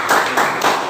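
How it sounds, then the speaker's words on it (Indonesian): A classroom gives a short burst of applause, a dense patter of hand claps lasting about a second, fairly loud and close. "beri tepuk tangan buat."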